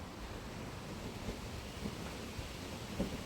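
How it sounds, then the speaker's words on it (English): Night wind blows steadily past the Plantation gates in Wigan, a constant broadband rush with gusty buffeting on the microphone and no other sounds standing out. "the wind blowing through"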